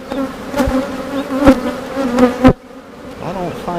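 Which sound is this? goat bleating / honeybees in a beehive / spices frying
honeybees in a beehive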